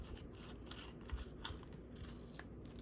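Scissors snipping through paper to cut a freehand pennant stencil, a faint, continuous crisp rasping close by with no talk.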